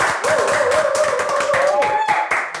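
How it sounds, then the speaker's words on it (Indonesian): Audience clapping for a guest arriving on a lively talk show, brisk claps heard under loud speech and a sustained tonal voice or music line. "Kita kasih tepuk tangan gokil."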